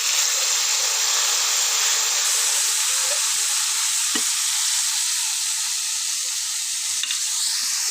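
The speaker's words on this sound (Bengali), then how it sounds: "এখন আমি এক এক করে এই মশলা ভেন্ডি আমি দিয়ে দেবো কড়াইতে।" Spiced okra fries in hot oil in a wok, giving a loud, continuous close-up sizzle and hiss with a sharp spit and some stirring clatter.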